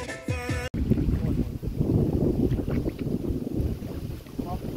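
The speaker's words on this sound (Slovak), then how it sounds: "Vietor fúka na nás" Wind gusts against the microphone beside a fishing lake, a steady loud rushing roar that fills the whole clip after a brief voice at the start.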